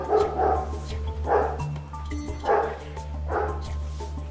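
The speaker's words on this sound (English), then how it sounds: "Somebody walking a dog. Dog losing her shit." A dog being walked barks in four agitated bursts about a second apart, loud and close, over a steady low hum, with no talking.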